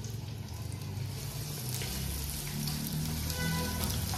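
Chopped onions and cumin sizzle steadily in hot oil in a home kitchen, a continuous dense hiss of frying with no talk over it.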